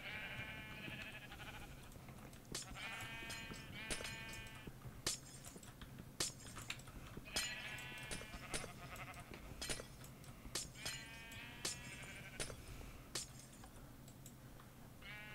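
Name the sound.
sheep bleating in Minecraft video game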